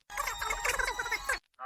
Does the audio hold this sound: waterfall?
no